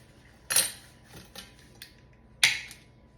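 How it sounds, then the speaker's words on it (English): A knife cuts butter into small slices for topping a steak, giving two sharp close scrapes with a fainter tap between, alone in a quiet kitchen. "I am simply just going to cut this butter into small slices"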